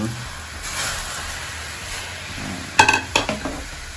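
Shrimp for garlic shrimp blanch in a pot of boiling water with a steady hiss and bubble. A few sharp utensil clinks against the pot come near the end.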